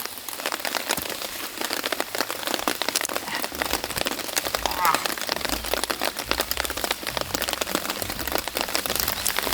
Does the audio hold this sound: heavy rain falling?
yes